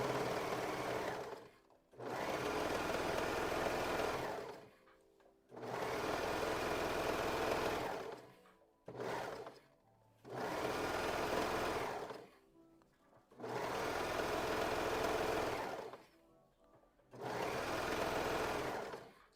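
A serger stitches and trims fabric at the armhole of a sewing-pattern dress, running in repeated bursts of steady whirring a couple of seconds long, separated by short pauses.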